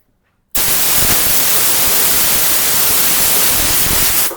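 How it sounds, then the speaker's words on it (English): Compressed air blasts loudly and steadily from a nozzle onto a primed car panel to clear sanding dust, hissing for about four seconds after an abrupt start and then cutting off. "I'll just give that a bit of a blow off,"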